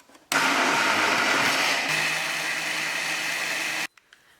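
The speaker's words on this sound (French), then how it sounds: "C'est au tour du mixeur de faire son travail." A kitchen blender whirring at full speed as it purees watermelon with honey and yogurt into a drink, starting abruptly, running loud and steady for about three and a half seconds, then cutting off.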